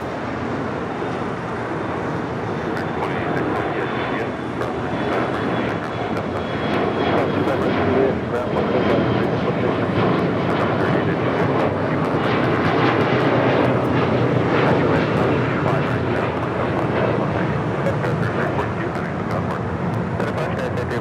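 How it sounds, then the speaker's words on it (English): Alaska SkyWest Embraer E175 jet taking off at Los Angeles International Airport, a continuous broad engine roar that swells and fades slowly over about twenty seconds at a moderate distance. "Taking off there, that was Alaska Sky West, flight 3342, heading to SFO, and then E175"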